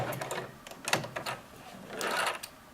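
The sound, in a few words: sewing machine stitching a lined patch pocket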